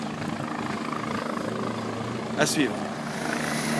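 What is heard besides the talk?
helicopter flying near a bridge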